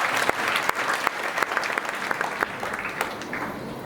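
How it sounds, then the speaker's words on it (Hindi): Audience clapping at a Hindu religious discourse in an ashram in Burhanpur, a dense patter of many hands with a few sharp louder claps, easing slightly toward the end. "इसके लिए भी ताली बजा।"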